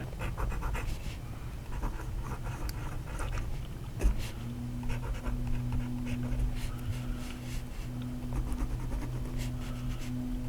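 An Asvine P20 fountain pen with an extra fine steel nib scratches faintly across paper in continuous soft strokes, under a steady low hum.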